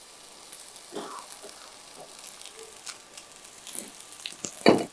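Cooked rice tossed in a pan with butter and capsicum: a soft, steady sizzle with scattered stirring scrapes and a sharper clack near the end, fairly quiet and with no voices.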